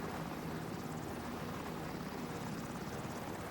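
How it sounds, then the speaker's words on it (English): Rescue squad helicopters flying very close together produce a steady, dense rotor and engine roar that continues unbroken with no voices. "The helicopters are very close together"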